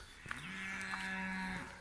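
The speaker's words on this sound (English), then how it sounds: "You hear the cows in the distance, the birds song." A cow lets out a single long, drawn-out moo from a distance on a quiet countryside morning walk, the low steady call rising, holding, then falling away, with faint birdsong in the background.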